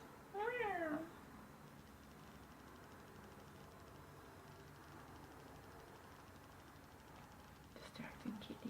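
A house cat meowing once, a short, clear, close meow at the start, then a quiet room with faint hiss and a soft muffled sound at the end.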